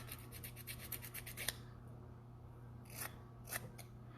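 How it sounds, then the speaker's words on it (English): Quick rhythmic rasping strokes of a nail file on fingernails, a steady run of short scrapes, then a pause and two more isolated strokes, close and fairly quiet. "I'm just going to keep filing."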